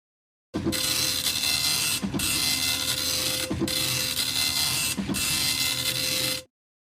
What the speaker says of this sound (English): That's the sound of the dot matrix printer.